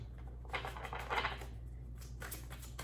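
A Thelema tarot deck is shuffled by hand, with soft papery riffles and card flutters in a couple of bursts over a steady low hum, close and quiet.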